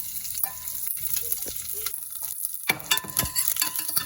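Mustard seeds, curry leaves and dried red chillies frying in hot oil, a steady close sizzle with sharp crackling pops and a few spoon scrapes, no voices.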